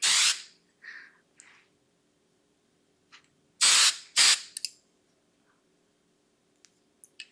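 Hairspray from an aerosol can misted onto curled hair, heard as two close, loud hissing bursts about half a second each, with a softer spray at the start and light handling clicks in between.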